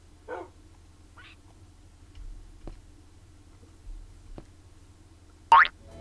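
Minecraft dog barking in a game, with a few short, spaced yips and barks over a faint background hum, the final bark loudest and sharpest.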